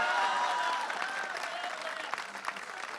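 Audience in a hall breaking into sustained applause, a dense wash of clapping that stays loud and steady, then thins slightly toward the end.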